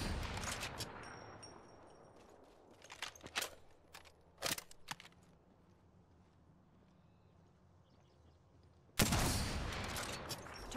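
Video game gunfire from Apex Legends: scattered sharp shots and short bursts, some near and loud, others faint, ending in a heavy sustained burst, no talking.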